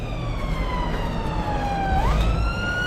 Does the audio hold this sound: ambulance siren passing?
yes